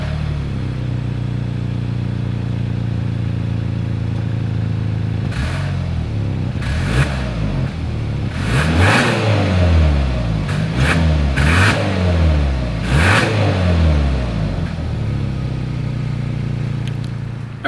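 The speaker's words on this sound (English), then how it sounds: "As always, here is that exhaust clip." A 2022 Hyundai Santa Cruz pickup revs through its exhaust, idling with a low rumble, then giving a series of sharp rising and falling revs in the middle before settling back to idle.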